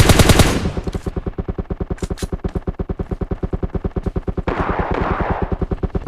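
Sustained automatic gunfire in a battle royale video game, a rapid steady rhythm of loud close shots with a few brief bursts of other noise, continuing without pause and with no talk.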